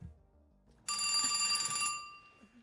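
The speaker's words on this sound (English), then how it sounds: "that's when the phone rang" A telephone bell rings once in a single bright, loud burst of about a second, followed by near silence with faint low sounds.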